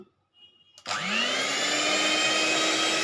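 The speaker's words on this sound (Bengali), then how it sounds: "তেল দেওয়ার পর আমি বিট করছি" An electric beater whirs into life after a short clatter, beating eggs with oil for cake batter, then holds a loud steady motor whine close by.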